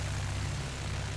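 A propeller airplane drones steadily on its approach to the runway, a continuous low engine hum holding even and fairly close throughout, with no voices.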